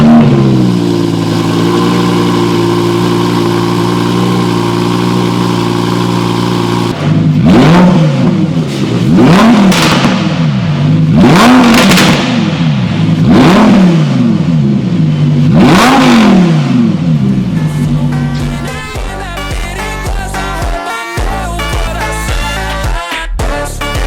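A Lamborghini Huracan STO with a Gintani titanium exhaust idles with a steady drone, then is revved hard several times in rising and falling sweeps, very loud and close, before dropping back to a rough idle and blip.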